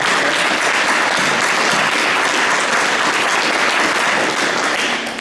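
Loud, sustained applause from a banquet audience at a university engineering awards dinner, a dense unbroken wash of many hands clapping with no voices on top.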